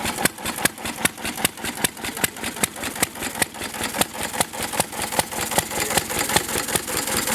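A McCormick Deering M tractor engine runs unchoked after a first start, a steady, fairly loud chugging idle with evenly spaced firing beats and a faint hit-and-miss unevenness, with no voices over it.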